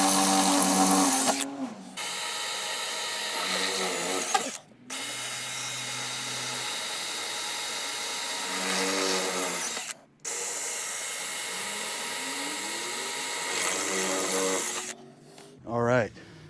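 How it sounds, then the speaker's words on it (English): A power drill bores a pilot hole for screws while installing a hide-a-spare on an RV, whining in several sustained bursts separated by brief stops, close and fairly loud, with a person talking over parts. "our hole's pre-drilled"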